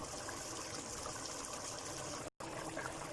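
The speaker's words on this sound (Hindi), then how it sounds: "हम इसमें पानी ऐड करेंगे" Water pours into a cooking pot of browned chicken in a continuous trickling splash, fairly quiet and steady, broken once by a brief dropout.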